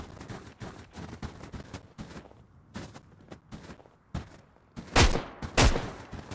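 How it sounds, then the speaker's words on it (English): A shotgun fires in the video game Road to Vostok, with two loud, sharp blasts near the end following a series of quieter thuds and shuffling steps. "All right, so I had to give the shotgun a try."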